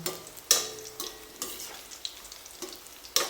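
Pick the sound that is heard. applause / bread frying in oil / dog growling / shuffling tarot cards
bread frying in oil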